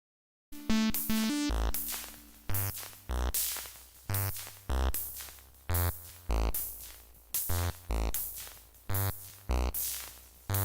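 A synth pattern from a second MIDI sequencer in a Pure Data patch pulses in a steady rhythm, each note starting with a sharp punch over a low thump, repeating evenly and fairly loud.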